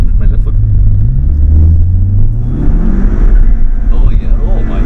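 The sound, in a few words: Skoda Octavia RS245 with Revo Stage 2 map driving off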